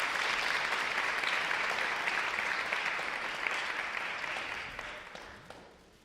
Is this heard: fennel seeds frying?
no